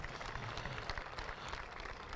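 A crowd at a drift event claps in praise of four competitors. The applause is a steady, dense patter that stays fairly quiet and distant throughout, with no voices over it.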